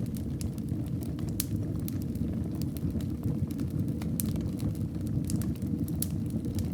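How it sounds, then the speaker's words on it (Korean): A wood fire burns in a fireplace in a Swiss snowy mountain cabin. A steady low roar is dotted with frequent small, sharp crackles and pops, close and continuous, with no voices. "불이 타는 소리와 숨이 섞인다."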